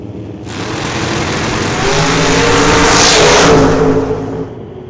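Drag race cars, an orange Barracuda and a Firebird, launching at an old-time drag strip: a loud, rising engine roar that swells into a sustained high-revving blast and then eases off, close and alone.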